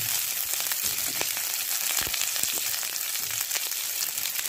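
Chopped onions frying in a pan for paneer chilli ghee roast, giving a steady, close sizzle and crackle throughout with occasional small pops and no voices.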